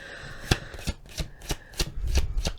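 Tarot cards are shuffled in quick, crisp bursts, about six riffling snaps in a row, close and clear with no voices.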